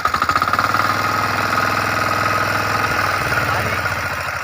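A Kisankraft 406D power weeder engine pulls to life after a rope start, giving a few loud chugging bursts before settling into a steady, close, rattling idle that runs continuously.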